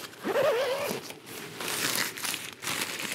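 Lightweight premium tent fabric crinkles and rustles as it is handled, close up with soft crumpling bursts and a brief squeaky sound near the start.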